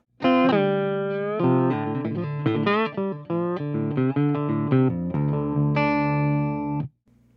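An electric guitar played through a Tungsten Mosaic amp, miked up close with a 57 and left completely dry, rings out a sustained chordal phrase for about seven seconds before cutting off.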